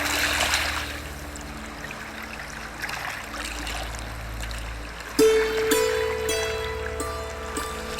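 The Manas river flowing in Manas National Park, a continuous broad rush of water throughout, with a closer splash and trickle appearing partway through.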